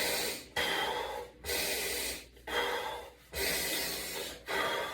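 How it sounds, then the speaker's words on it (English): Deep belly breathing, in a slow regular rhythm of five or six loud, close inhales and exhales through the nose and mouth, each breath separated by a short pause. "So this is belly breathing."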